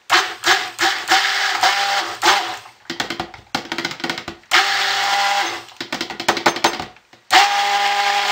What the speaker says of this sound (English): So I can keep the same stick blender without cleaning it.